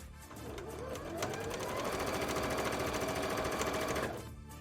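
A sewing machine stitching a cosplay petticoat runs steadily for about four seconds, its close, fast mechanical chatter starting and stopping cleanly, with no talking.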